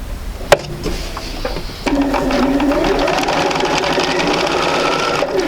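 After a few small clicks, a sewing machine starts up and runs steadily, stitching quilt pieces for an intermediate sampler block with a close, loud, continuous whirring hum.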